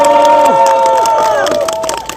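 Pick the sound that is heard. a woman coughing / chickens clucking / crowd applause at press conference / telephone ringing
crowd applause at press conference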